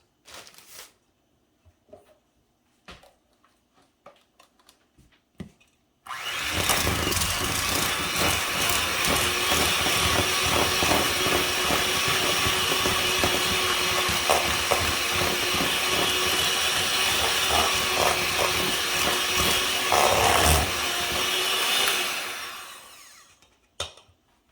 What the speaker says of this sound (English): I'm going to get my hand mixer and I'm going to blend this together now so that it's creamy and smooth